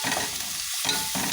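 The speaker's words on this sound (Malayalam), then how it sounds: "ഇനി നമ്മൾ ഇത് നന്നാക്കി ഇളക്കി കൊടുക്കാം." Green chilies and onions being stirred in hot oil in a pan, with a continuous close sizzle and short scraping strokes of a spoon, no voices.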